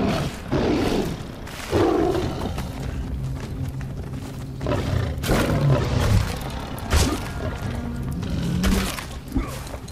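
A bear in the video game Far Cry Primal lets out deep, growling roars in several loud bursts over a dense, rumbling game soundscape, with no talk.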